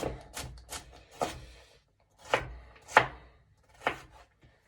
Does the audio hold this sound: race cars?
no